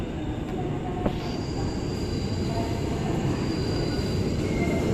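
An Indonesian KRL electric commuter train at Manggarai station, a steady loud rumble of cars rolling past with faint high wheel squeal over the track noise, continuous throughout.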